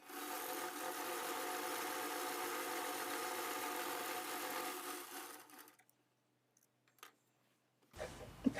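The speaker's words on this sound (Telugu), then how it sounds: "నీట్గా ఇలా మనం మిషన్ కుట్టే వేసేసుకోవచ్చు" A sewing machine stitches a sleeve hem on cut-work fabric with a steady, close whirring for about five and a half seconds, then stops, leaving a few faint clicks and a brief rustle near the end.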